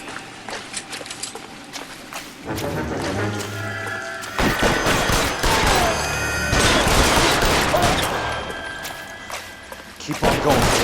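Gunfire erupts in L.A. Noire, with scattered loud shots and crashing action noise swelling into a dense, continuous barrage; a voice shouts over it.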